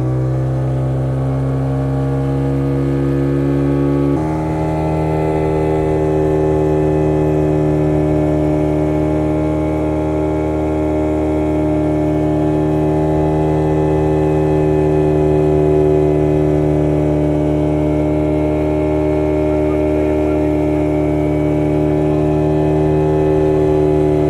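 A motor boat cruises on the Maithon Dam reservoir, its engine droning loud and steady with a smooth hum that shifts slightly in pitch early on, then runs evenly for over twenty seconds without any voices.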